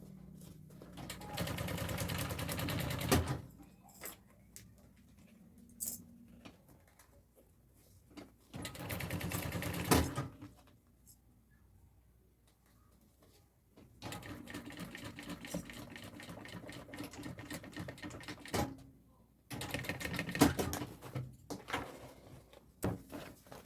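A sewing machine stitching a zipper onto an executive bag, running in four long whirring bursts separated by quiet pauses and small clicks of handling fabric.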